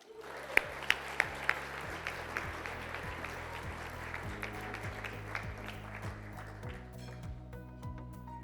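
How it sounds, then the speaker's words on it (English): Applause greets the COO of BHI, Brett Haslam, at an executive awards event, a moderate patter of clapping under steady background music, with a few sharp claps near the start. "Please join me in a round of applause for the COO of BHI"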